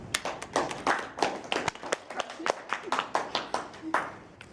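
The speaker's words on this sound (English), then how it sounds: "let's give her a round of applause" A small group claps in scattered, uneven bursts of individual hand claps, fairly close, with some voices faintly mixed in.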